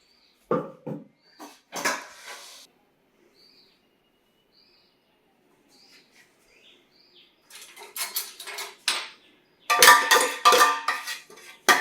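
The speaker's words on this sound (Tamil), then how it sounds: "இப்படி கரண்டி மட்டும் போடுங்க." A spoon scoops ground idli podi from a container, with scattered scraping and clinking bursts separated by quiet gaps and a livelier run of metallic scrapes at the end, while birds chirp faintly in the background.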